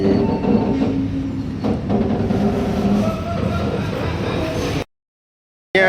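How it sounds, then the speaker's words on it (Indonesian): Mutiara Timur Ekonomi New Generation, a modified long-distance economy passenger train, rolls along the rails, a loud steady rumble with faint wheel squeal and clatter heard from inside the carriage, then briefly cutting out. "Terima kasih kereta api Mutiara Timur Ekonomi New Generation modifikasi"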